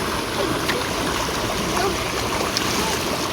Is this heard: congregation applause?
no